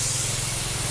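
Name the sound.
sprayer spraying pesticide on chili plants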